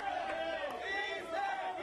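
A crowd in Spain protesting a scheduled eviction, many voices shouting and chanting together at a steady moderate distance, a continuous dense roar with no single voice standing out.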